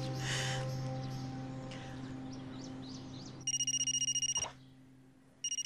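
A telephone rings insistently indoors in a Turkish drama scene, its electronic ring coming in one sustained burst and then starting again briefly, heard alone without talk.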